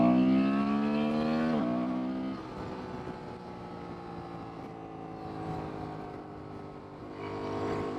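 A Honda Transalp motorcycle engine revs hard under acceleration, with a rising harmonic whine cut by crisp quick-shifter gear changes, a sharp drop in pitch at each shift before climbing again, loud and close with no talk.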